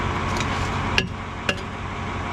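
Two sharp metallic hammer blows land on the exhaust pipe of an old abandoned Allis-Chalmers tractor, spaced about half a second apart over a low steady background.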